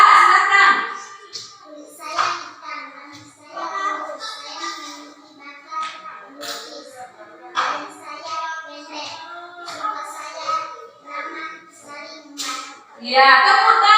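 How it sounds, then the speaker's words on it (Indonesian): Children in a classroom clap their hands in applause, a fast patter of claps mixed with young voices and chatter, swelling again loudly at the end. "Ya, tepuk tangan."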